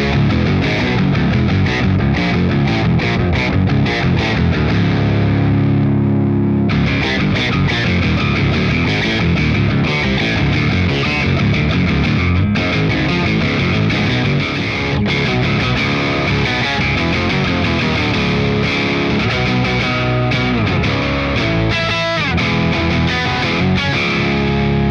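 Electric guitar run through a BOSS OC-5 octave pedal, a dense, loud, continuous distorted tone with thick low octave doubling, played steadily for the whole stretch with a brief shift in texture, no voices.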